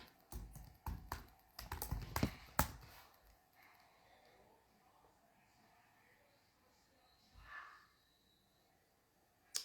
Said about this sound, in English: I'm just typing away here.